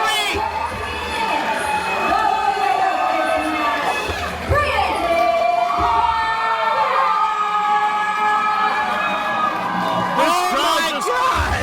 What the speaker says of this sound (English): This crowd just came unglued.